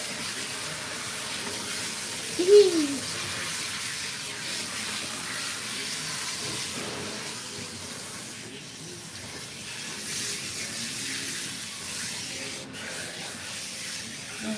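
Running water hisses steadily as it rinses a dark-coated, long-haired British cat during a bath, a close, even spray lasting throughout with a brief squeak early on.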